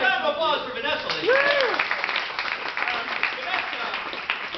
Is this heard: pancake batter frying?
no